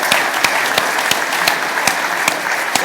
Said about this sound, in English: So a round of applause for Bill.